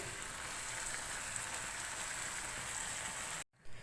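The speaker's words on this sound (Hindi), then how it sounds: "मीडियम टू हाई फ्लेम पे हम चिकन को कुक करेंगे।" Marinated chicken pieces sizzling and frying in a pan over a medium-high flame, a steady dense crackle that holds loud and even, then cuts off abruptly near the end.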